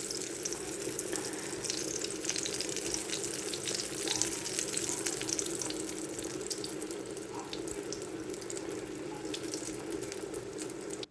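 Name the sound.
eggplant slices frying in hot oil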